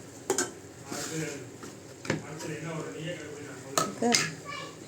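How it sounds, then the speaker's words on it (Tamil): Prawns frying in a pan with salt as they are stirred, soft sizzling under sharp clinks and scrapes of a utensil against the pan, with a voice talking over it. "உப்பு போட்டுட்டு நல்லா ஃப்ரை பண்ணி விடுங்க"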